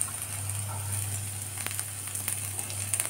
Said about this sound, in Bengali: তেলটা গরম হয়ে গেছে, এতে আমি কুচনো রসুনগুলো দিয়ে দেব